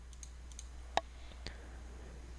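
A few faint, sharp computer mouse clicks sound over a quiet steady hum, two distinct clicks about half a second apart after softer taps.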